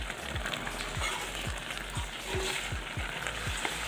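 Vegetable-egg soup with whole dry fish is stirred gently in a pot, giving regular low scraping sweeps about every half second over a steady simmering hiss, close and alone with no talk.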